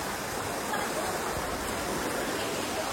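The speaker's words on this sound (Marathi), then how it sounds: "एकदम प्रेशरनी पाणी जातं" Water rushes under pressure at a waterfall during heavy rain, a loud, steady roar of gushing flow filling the scene without pause.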